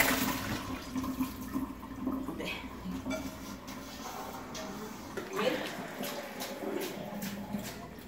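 Cooked pasta poured into a colander to drain, a splashing water rush with clatter under a voice talking in a kitchen.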